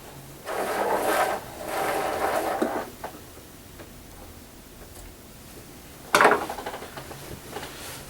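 A sewing machine back stitching heavy fabric for a haunt robe runs in two sustained bursts. A sharp, louder run follows near the end, close and without talk.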